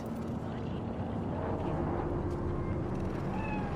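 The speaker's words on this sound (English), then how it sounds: "Fine-looking feline." A cat meows faintly in the futuristic city of Night City in Cyberpunk 2077, a thin high call rising near the end over a dense, steady rumble of urban ambience.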